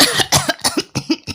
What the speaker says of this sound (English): Now clear your throat.